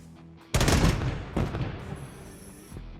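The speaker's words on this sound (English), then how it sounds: "we can just shoot one of these barrels" Gunfire hits an explosive barrel in the sci-fi horror roguelike Quasimorphosis: a loud sudden blast with crackling burst, a second impact shortly after, then a thinner ringing tail, close and alone.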